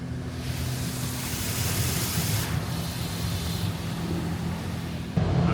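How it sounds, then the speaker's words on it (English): A car wash blasts water off a car in a loud, steady roaring rush that holds for several seconds and then cuts out abruptly. "I guess they're blasting the water off as we leave."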